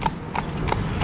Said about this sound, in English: Real nice horse, nice pony,